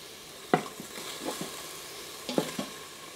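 Sautéed mushrooms are scooped out of a pan, a few sharp scrapes and taps of the utensil over a faint, low sizzle, close and brief.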